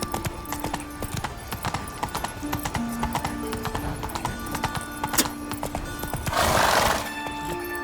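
Roach the horse trotting in The Witcher 3, with steady, close clip-clop hoofbeats running throughout and a brief burst of rushing noise near the end.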